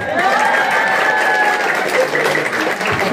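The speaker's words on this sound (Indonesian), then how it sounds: "saya minta tepuk tangannya ibu-ibu" An audience of women claps loudly and continuously at a comedic Maulid Nabi religious lecture in a village, forming a dense, steady wash of applause with some crowd noise.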